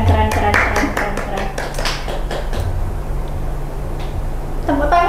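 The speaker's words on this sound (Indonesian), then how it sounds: "Tepuk tangan dong kakak." An audience applauding for a young badminton player and Quran reciter, with steady close hand clapping throughout and a voice talking faintly beneath it.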